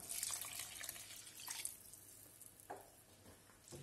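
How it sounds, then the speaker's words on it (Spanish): Water pours in steady splashes into a cooking pot holding rice, soft and close, with a brief clink partway through. "Agregaremos el agua poco a poco."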